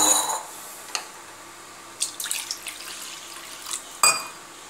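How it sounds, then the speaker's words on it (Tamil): Water is poured into a fish curry masala, with a soft splash at the start, then faint trickles and a couple of brief clinks in a quiet kitchen. "இதோட தேவையான அளவு தண்ணியும் ஆட் பண்ணிக்குவோம்."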